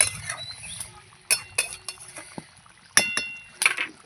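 A metal lid clatters onto a pan of simmering pointed gourd, potatoes and prawns, giving several sharp clinks and taps in quick bursts against a quiet background.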